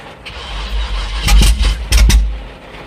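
V8 engine in a Chevy S10 cranking and catching briefly on gas poured into the carburetor, with rumbling sputters and two short bursts as it tries to fire.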